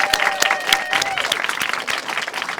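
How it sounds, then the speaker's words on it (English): A ceremony audience claps in a warm round of applause, a dense patter of many hands that fades slightly toward the end, with a voice briefly audible beneath it. "Could we have one more round of applause?"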